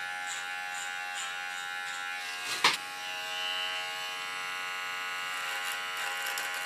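Electric hair clipper cutting hair short during a home makeover, a steady close buzz with a fine harmonic whine, one brief louder burst partway through, with no talking.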